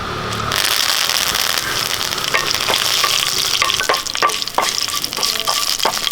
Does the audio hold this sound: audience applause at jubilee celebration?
no